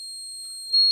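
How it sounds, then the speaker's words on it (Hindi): Alarm from a science project's power line fault protection circuit, triggered when the lines touch: a steady, loud, high-pitched electronic tone that holds continuously and swells slightly near the end. "अगर यहाँ पर पावर लाइन आपस में जुड़ जाते हैं तो यहाँ पर क्या होगा, अलार्म बजेगा"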